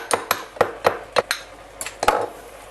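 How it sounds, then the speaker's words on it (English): The tip of a knife taps and grinds saffron in a small ceramic ramekin, giving about nine sharp, close clinks in an irregular rhythm with no talking. "So I'm just going to put it in a little ramekin and just use the end of my knife just to grind it up."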